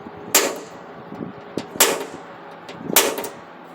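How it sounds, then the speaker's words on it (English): Three sharp metallic snaps from a spring-loaded center punch striking the body panel of a Ram 1500 pickup during rust repair, spaced about a second and a half apart, close and loud with brief ringing tails. "get yourself a center punch. I like using a spring loaded."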